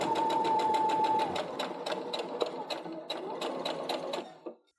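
Sewing machine running continuously as it stitches quilt fabric, a rapid, even mechanical chatter with a faint whine early on, up close, before it slows and stops at the end.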